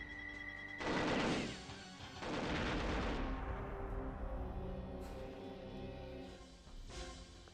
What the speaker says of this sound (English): Fly-by-wire rocket.